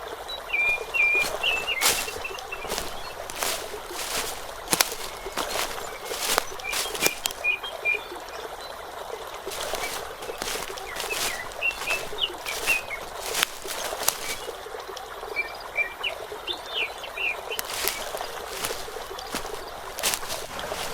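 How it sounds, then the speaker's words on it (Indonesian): Steady rushing flow of water near the Curug Walet waterfall fills the scene, with bright, scattered bird chirps and tweets repeating throughout over a dense, constant outdoor background. "suara gemericik air yang mengalir dan kicauan riang burung-burung yang masih terdengar di"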